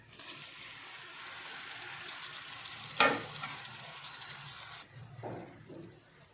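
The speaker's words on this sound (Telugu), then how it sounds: "బుడంకాయ ముక్కలు మొత్తం కొంచెం ఫ్రై అయిపోయాయి ఇప్పుడు టమాటా ముక్కలు వేస్తున్నాను" Bottle gourd pieces frying in a pan as tomato pieces are added, a steady close sizzle with a sharp burst of hiss partway through, then quieter stirring.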